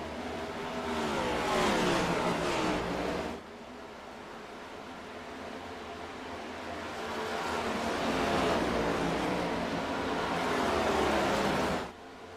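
Race car engines in a racing game, a car diving into turn one while chasing the bumper of the 01 car, a steady loud roar swelling and easing with revs, no talk over it.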